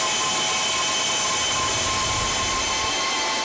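Steady broadband roar of a military transport airplane's engines at about 300 km/h as special operations paratroopers jump out in two streams under a second apart; loud and continuous, with no talk.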